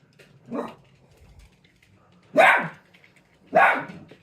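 A dog barks three times, fairly close, with pauses between the barks; the first is softer and the last two loud and sharp in a quiet outdoor setting.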